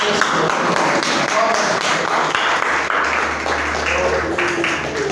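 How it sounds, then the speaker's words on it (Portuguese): Steady applause from a church congregation filling the whole stretch, with voices and music mixed underneath. "Aplauda o Senhor."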